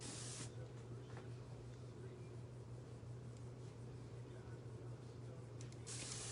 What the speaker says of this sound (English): Once I spray that texturizing spray in, I usually don't really comb through it.